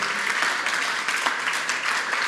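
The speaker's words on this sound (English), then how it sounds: "keep that round of applause going for Jack Ginnivan and Still Sidebottom" An audience at a live Aussie Rules football show keeps up loud, continuous applause for Collingwood players Jack Ginnivan and Steele Sidebottom, a thick, unbroken patter of many hands with no voice over it.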